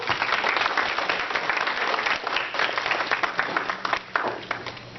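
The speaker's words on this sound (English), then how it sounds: "would you please welcome him with a nice big round of applause" Members of a 4-H horse club give a guest speaker a Veterans Day welcome with a big round of applause, dense steady clapping from a nearby audience that tapers slightly toward the end.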